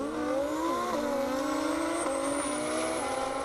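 A drag racing car, either a 2018 Audi R8 rated at 1,500 horsepower or a 2015 Nissan Nismo, at a half-mile airport drag strip, engine howls continuously and climbs in pitch through gear changes, loud and steady throughout.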